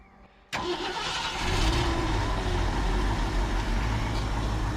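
A box truck engine cranks and catches with a sudden roar, then settles into a loud, steady, rumbling idle with no voices.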